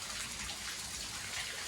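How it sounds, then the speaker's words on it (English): Heavy rain pouring during a thunderstorm around a hot tub area, a steady dense hiss of falling water with no talk. "it's been raining so hard for quite a while now"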